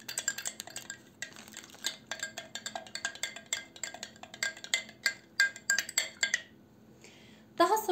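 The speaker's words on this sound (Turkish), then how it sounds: "Şu şekilde gördüğünüz gibi bir tatlı kaşığı kahveyi döküyoruz ve karıştırıyoruz arkadaşlar" A teaspoon stirs Turkish coffee in a cup, making quick, rhythmic metallic clinks against the sides in repeated bursts, close and clear. A louder clatter comes near the end.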